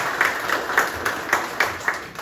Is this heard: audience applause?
yes